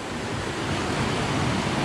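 Rapid river water rushing through the narrow Strid channel, a dense continuous roar of churning, bubbling water, loud and close with no talking.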